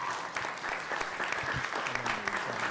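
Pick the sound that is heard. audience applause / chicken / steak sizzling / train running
audience applause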